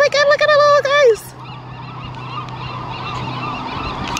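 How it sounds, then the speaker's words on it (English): A dense chorus of puffins calls loudly on the Oregon coast, a burst of harsh, honking cries packed close together for about a second before fading into steady outdoor wind and surf noise. "Look at all those puffins."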